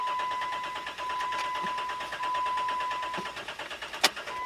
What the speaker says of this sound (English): So watch what happens when we try to start it. It's not going to start